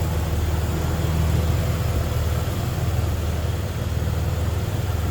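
The inline-six engine of a 2005 Jeep Wrangler 4x4 runs at a smooth, steady idle, a continuous close low hum with a fine pulsing texture and no talk over it.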